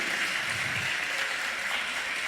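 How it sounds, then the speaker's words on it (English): Audience at a US Virgin Islands gubernatorial debate applauds, a dense, even clapping that holds steady and close for the whole stretch. "Let's give all of our candidates another round of applause."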